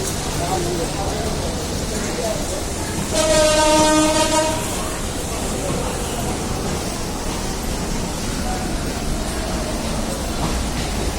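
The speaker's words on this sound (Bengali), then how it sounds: "দুটি ট্রেন একসঙ্গে ছেড়ে যাচ্ছে" Two trains pulling out together from a rain-soaked railway station at Santahar, one the Chilahati Express, rumbling steadily with a loud horn blast partway through and faint voices in the background.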